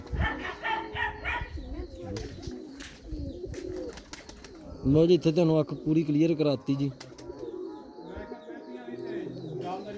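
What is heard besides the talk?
pigeons cooing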